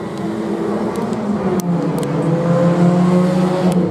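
Race cars roar steadily through the turns of an oval track at a claimer event, engines droning loud and continuous with layered revving as the pack runs close together.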